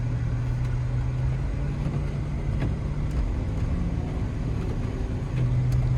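A Land Rover LR3 pulls away from a stop on icy, snowy ground, its engine giving a low steady drone with road and tyre noise heard from inside the cabin.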